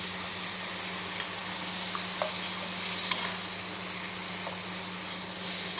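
Chicken liver fries in a pan with curry leaves, making a low, continuous sizzle. A few faint stirring scrapes sound over a steady background hum, fairly quiet, with no speech.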